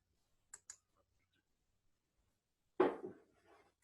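Two quick, faint mouse clicks on a computer while selecting and saving a course, followed by a brief louder rustle.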